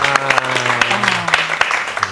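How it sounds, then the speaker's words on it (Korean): Studio audience applause on a Korean Christian talk show, a close burst of many hands clapping with a sustained musical tone underneath. "우리 박수로 한 번만 더 확인하시죠."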